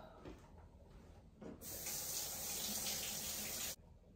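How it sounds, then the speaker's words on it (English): A kitchen tap runs for about two seconds as hands are washed, a bright steady hiss of water that starts and stops abruptly against a quiet room. "I washed my hands."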